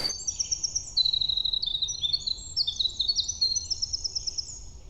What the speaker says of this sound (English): I've got had a hermit thrush sing in and a winter wren just a second ago.